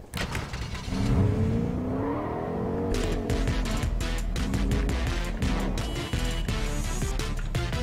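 A pickup truck engine in a video game revs and drives, with a steady motor drone that rises in pitch as it accelerates and mechanical clatter layered on top. The sound is moderately loud and carries no talking.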